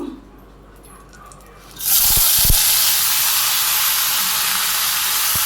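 Potato, plantain and water lily stems for shukto hit hot oil, and a sudden loud, steady sizzling hiss erupts about two seconds in and continues to the end. A couple of soft knocks come right at the moment they drop in.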